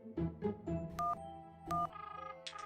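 Two short electronic dialing beeps from a cartoon telephone ring out between brief busy sound effects, followed by a faint warbling tone at the end.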